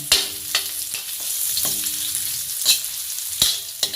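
Garlic, onion and ginger sautéing in hot oil for laing, a taro-leaf dish, with a continuous bright sizzle and several sharp stirring scrapes at irregular intervals, close up and without talk.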